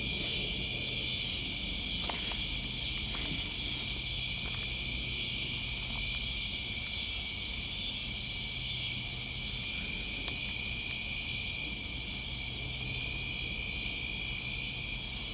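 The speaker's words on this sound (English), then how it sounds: "that tree cricket I'm hearing is a narrow-winged" Narrow-winged tree crickets trill steadily and continuously in an outdoor night setting, a loud, even, sustained chirping chorus that runs unbroken throughout with no talk.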